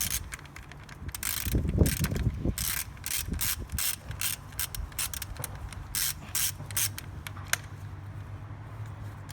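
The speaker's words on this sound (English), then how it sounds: "you could start by removing the 10mm bolts on top of the bracket for the wire harness for the alternator" A ratchet wrench loosens 10mm bolts on a wire-harness bracket atop a Toyota engine during valve cover gasket work, giving bursts of rapid clicking with metallic clunks, close and fairly loud, with no talk over it.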